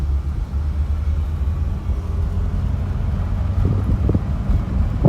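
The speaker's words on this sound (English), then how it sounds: "Really quiet car." Steady low road rumble and soft wind hiss inside a moving 1949 Cadillac with vent windows open at about 60, fairly quiet and even throughout, with no talking.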